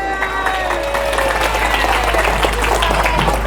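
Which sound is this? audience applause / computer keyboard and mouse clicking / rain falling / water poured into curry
audience applause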